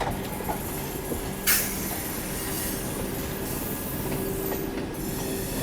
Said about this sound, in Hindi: अभी हम लोग स्किप कर रहे हैं धीमी स्पीड में साहिबाबाद जंक्शन रेलवे स्टेशन